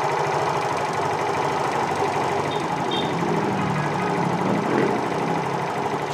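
Motorcycle engine, an injected bike with a fault, running at a steady idle with an even, loud, close mechanical drone and no talk.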